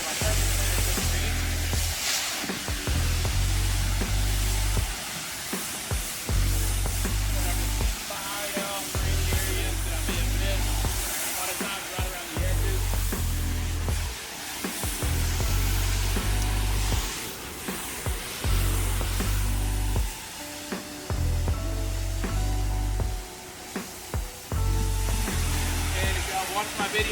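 A pressure washer runs at low pressure, spraying a pool deck with a steady hiss that cuts in and out in repeated bursts.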